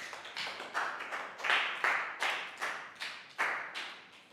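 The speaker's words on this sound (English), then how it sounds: "Big round of applause for Net." Several evenly spaced, fairly faint claps in a Year 3 classroom, each with a short room echo, as a group applauds a student in a steady, unhurried rhythm.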